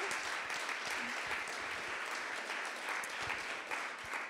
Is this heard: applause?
yes